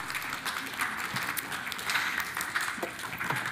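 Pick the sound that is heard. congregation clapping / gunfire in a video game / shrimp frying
congregation clapping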